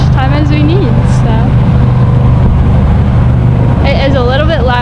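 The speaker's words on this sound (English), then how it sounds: "It is a little bit loud because we are next to some cars." Nearby car traffic downtown on a summer day gives a steady low engine rumble, with people talking loudly over it.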